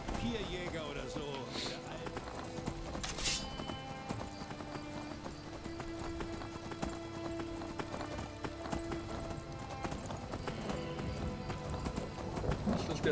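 Horse hooves clip-clopping steadily as a rider travels in Skyrim, a continuous fairly quiet rhythmic patter with game ambience throughout.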